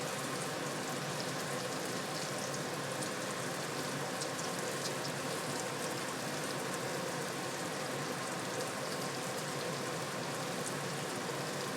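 Onions, spring onions and green chili frying in a pan for an Indian curry, a steady quiet hiss and crackle running evenly throughout with no voices over it.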